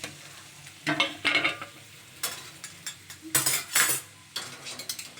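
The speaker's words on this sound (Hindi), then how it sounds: "पहले इसको फ्राई कर लेती हूँ कटहल को।" Jackfruit pieces fry in a pan with a close, crackling sizzle, punctuated by bursts of a spatula scraping and stirring against the metal, several strokes in irregular rhythm.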